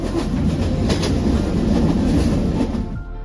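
The Egarosindhur passenger train running on rails on the Dhaka to Kishoreganj route, nearing Bajitpur station, gives a loud, steady rumble with faint clickety-clack. It fades slightly at the end as it slows.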